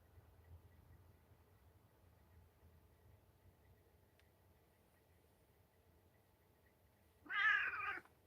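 A pet cat gives a single clear meow near the end, close and fairly loud, after a long stretch of quiet room tone.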